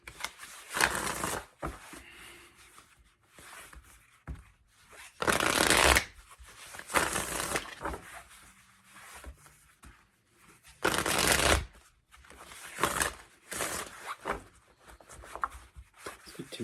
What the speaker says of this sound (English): Let's get 2 more shuffles for Sagittarius.